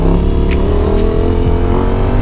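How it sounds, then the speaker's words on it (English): A V8 car engine revs hard against the rev limiter on a Chicago street, a loud, close, sustained roar with rapid stuttering cut-outs, heard alone without talk. "Limiter sounds amazing on this thing"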